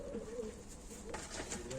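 Pigeons coo softly at a live bird auction, a low, faint burbling that carries on over a quiet background.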